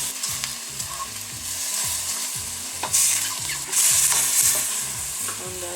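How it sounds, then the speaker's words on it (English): Beef chunks searing at full heat in a hot pan while being stirred, loud crackling sizzle with repeated scraping strokes in an uneven rhythm and a few bursts of hissing. "Full heat. Gotta keep it moving so that it doesn't stick to the bottom of the pan."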